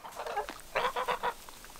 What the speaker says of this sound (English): Come see the geese.